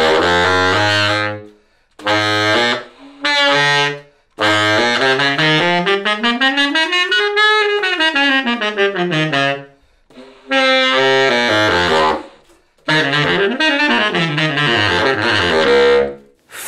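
Baritone saxophone fitted with a JodyJazz Jet mouthpiece and leather ligature plays solo. It moves through rich, buzzy phrases and long sliding runs, broken by short pauses, and sounds loud and close.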